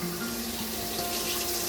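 A kitchen sink is filled from a tap with cold to lukewarm water for washing ginger, a steady loud rushing stream pouring into the basin without pause.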